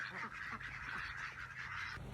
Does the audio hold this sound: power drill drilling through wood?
no